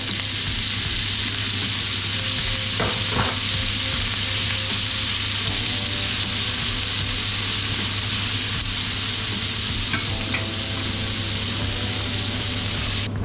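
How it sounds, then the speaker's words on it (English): Chopped onions frying and softening in a pan for a Hungarian chicken paprikash, giving a steady, close, dense sizzle throughout with a few faint clinks of stirring and no talk. "in with the onions. And we want to soften these up"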